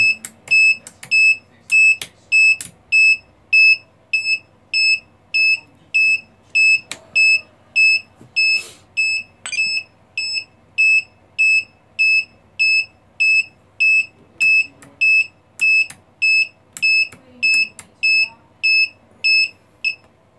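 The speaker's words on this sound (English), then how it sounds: "Okay, now let's start the beeping." An electronic beeper sounds in a long, regular series of short high-pitched beeps, steady and clear with no talking.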